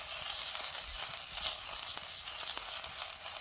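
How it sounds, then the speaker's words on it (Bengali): Crushed banana stem with water and ghee sizzling on a hot tawa while making patishapta pancakes: a loud, steady, bright hiss and sizzle runs throughout with small crackles, close up and with no talk. "কলার ডালেই আছে জল আর ঘি তাওয়াতে লাগলেই চঁচো শব্দ হবে"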